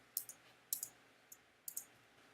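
Light key clicks on a Mac keyboard, a few faint, sharp taps in small clusters, close but quiet against a near-silent background.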